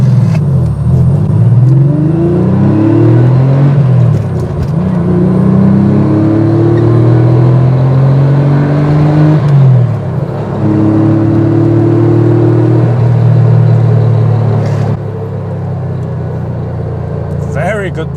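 A Porsche 964 Carrera with a 250-horsepower 3.6-liter flat-six pulls hard through the gears, its note rising in repeated climbs with brief drops at each shift, loud from inside the cabin.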